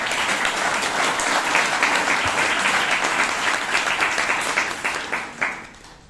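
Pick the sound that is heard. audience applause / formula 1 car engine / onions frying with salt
audience applause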